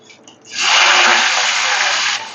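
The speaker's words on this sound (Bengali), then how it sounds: "পেঁয়াজটা একটু ভেজে নেবো।" Onion dropped into hot oil with black cumin seeds, a sudden loud sizzle that rises within half a second and hisses steadily and evenly for nearly two seconds before easing off.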